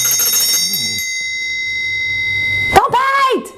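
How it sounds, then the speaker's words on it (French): A bell rung as a sound effect sounds a sustained metallic ring with steady overtones for about two and a half seconds, then stops abruptly as a voice starts talking. "Bon, je vais réessayer avec la cloche."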